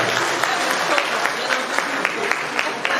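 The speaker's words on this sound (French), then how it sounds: "Applaudissez." Applause from an audience at a 50th-anniversary celebration following a speech by a deputy mayor, continuous many-handed clapping at moderate level with no talk over it.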